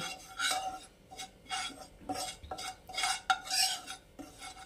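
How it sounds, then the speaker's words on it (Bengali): A spoon scrapes and stirs a dry snack mixture being lightly roasted in a pan without oil, in close, bursty strokes with short pauses between them and no talking. "এটাকে আমি হালকা একটু রোস্ট করে নেব।"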